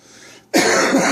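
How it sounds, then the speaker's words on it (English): A single sharp, loud cough bursts out after a brief quiet hiss, close to the microphone, with no talk around it. "Would have to cough right in the middle of this."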